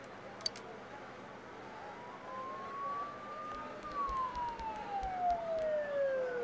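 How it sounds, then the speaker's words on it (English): A faint, distant siren in the video game Persona 4 Golden wails, rising and then falling slowly in pitch over a quiet background hum, with a few light clicks. "Don't those sirens sound really close?"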